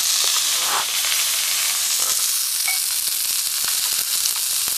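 Sausages frying on a survival stove, a steady close sizzle with faint crackles and occasional soft pops running evenly throughout.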